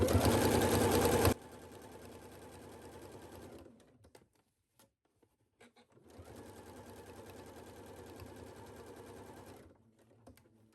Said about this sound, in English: stitch the facing starting at the center back and literally having my needle 1/8 from this seam line here